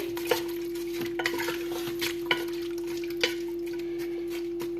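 A spoon stirs mutton karahi ingredients with water in a pot, giving scattered scraping and clinking strokes at an uneven pace over a constant electric hum, fairly quiet and close.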